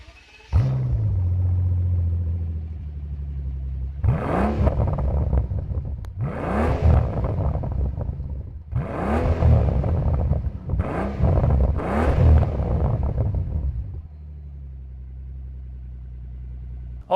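Mercedes SL65 AMG Black Series engine, loud and close, idling low and then revving sharply several times in quick bursts before settling back to a deep idle.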